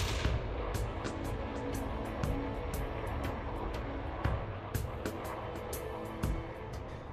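Bombs striking a base in the space game Elite Dangerous Odyssey, a dense run of repeated sharp blasts and thuds over a constant loud rumbling bed, irregular and close.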